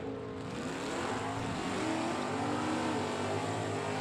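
Drag race cars, including a Mustang, accelerate down the track with a continuous roaring engine drone at moderate distance, steady and unbroken throughout.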